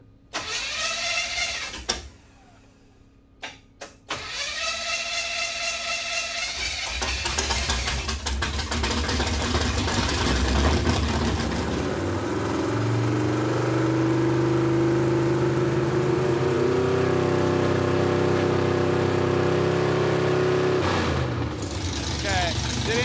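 A junkyard Chevy Tri-Five with a swapped carburetor starts after a few sputtering cranks, then idles and revs steadily for a long stretch, with voices talking over the engine.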